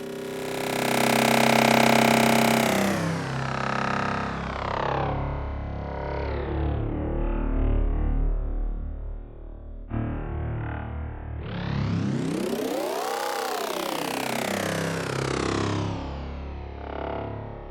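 A granular-synthesized coffee machine recording sweeps through loud, buzzy, distorted tones that glide up and down in pitch, with stepped shifts, a brief dropout, and a rising then falling swoop.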